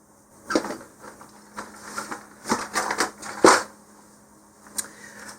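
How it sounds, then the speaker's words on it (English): Scissors snip lengthwise through model rocket elastic in a series of short, irregular cuts and crunches, close up, with quiet gaps between bursts. "So you take some scissors and cut lengthwise."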